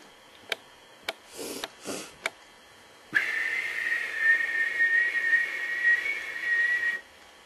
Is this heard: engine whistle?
yes